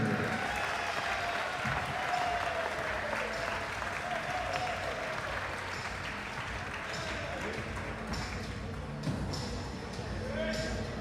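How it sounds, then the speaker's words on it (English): A crowd in a gym at a men's NCAA gymnastics meet applauds a senior athlete, sustained loud clapping and cheering that fills the large room continuously, with voices mixed throughout. "let's give one round of applause to Marcus Kushner"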